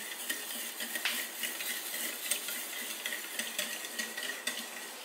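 Orange chicken sauce stirred in a pan, a steady run of close metallic scrapes and clinks of a utensil against the pan, with no voices.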